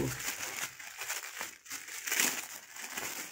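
Plastic packaging holding a white lightweight mesh songkok cap is opened, giving close crinkling and crumpling rustles that swell and fade in bursts, with no speech.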